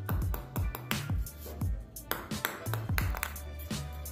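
A table tennis ball bounces repeatedly against a Butterfly Wakaba 3000 racket, giving a quick run of sharp, light clicks at an uneven rhythm, close and fairly quiet.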